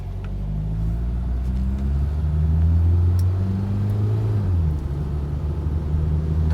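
A 1997 Mitsubishi Lancer 1.6 GLXi sedan driving along, its steady low engine rumble and road drone rising slightly mid-way as it accelerates, close and continuous with no voices.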